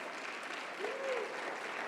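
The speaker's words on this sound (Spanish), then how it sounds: "Dale un fuerte aplauso al Rey." Church congregation giving a loud, steady round of applause, many hands clapping together in a continuous dense roar, with a faint voice rising briefly in the middle.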